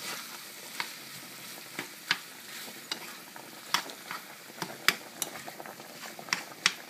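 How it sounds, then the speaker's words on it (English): Ground meat for Cuban picadillo fries quietly in a pan under a low sizzle, while a spoon scrapes and taps against the pan in frequent, uneven strokes as it is stirred. "Now this is something you want to be stirring frequently because you don't want the meat to clump together like meatballs."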